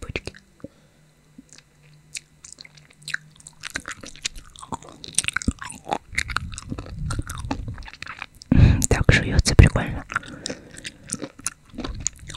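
Close-miked mukbang eating of chicken embryo delicacies: wet, crunchy chewing and biting, sparse at first and then dense and loud in the second half, with soft whispering at times.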